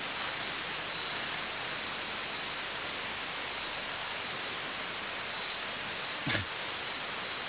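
Rain falling in an Australian forest, a dense steady hiss of drops on leaves and ground throughout, moderately quiet, with one brief thump near the end and no speech.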